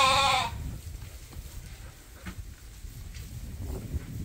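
A single sheep bleat rings out loudly in a barn at the very start, then fades into low, quiet shuffling and stirring of the flock.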